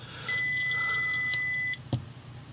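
A steady electronic buzzer on an Arduino Nano digital spirit level sounds for about a second and a half, a high tonal beep, then cuts off, followed by a brief click.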